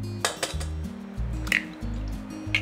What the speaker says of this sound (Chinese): 我们就来打蛋